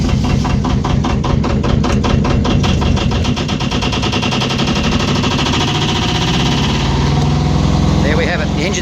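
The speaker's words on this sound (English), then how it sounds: "There we have it, the engine's running." The inboard engine of an Irwin Citation 34 sailboat runs with a loud, steady, rapid chugging rhythm that continues without a break.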